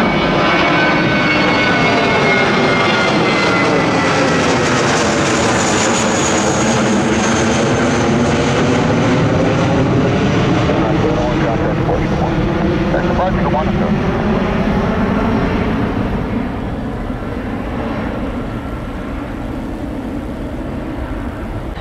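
A loud Avianca airliner taking off at Miami airport, its engine roar swelling and sustained for about twenty seconds with a whining tone, then slowly fading as it climbs away.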